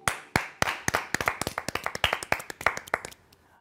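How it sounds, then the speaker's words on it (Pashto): A classroom group claps for a student during a chemistry lesson: a quick, ragged burst of about twenty sharp hand claps that thins out and fades near the end, with no talking. "د فردین او د خپل د ګروپ دپاره چکچکې وکړئ"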